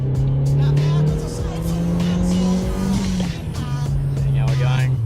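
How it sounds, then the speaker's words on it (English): A GTiR car being driven: a steady engine hum holds a constant pitch with faint shifts, while lighter road and cabin noises come and go above it. "We're now taking GTiR for a drive."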